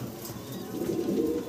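Exhibition pigeons at a breeder's sale in Bangladesh coo in a soft, continuous low murmur close by, with several overlapping throaty coos and no talking.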